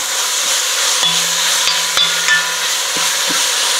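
Beef sears steadily in a hot pan for a beef stroganoff while a wooden spoon pushes the pieces around, giving a continuous close sizzle broken by a few sharp scraping knocks.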